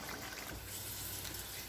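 Fried lado pethi, a Lahori fried lentil snack, dropped into a bowl of water, a soft steady watery wash at low volume with no voices.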